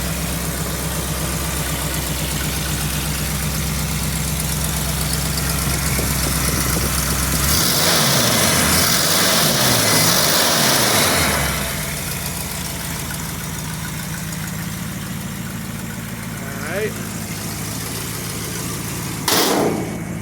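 A Dodge Ramcharger's engine idles steadily close by, a continuous low hum with a louder, rougher stretch partway through and a brief knock near the end, with no talking.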